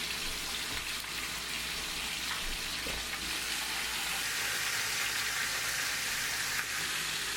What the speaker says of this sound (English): We'll brown up the bottom on a high heat and then flip it.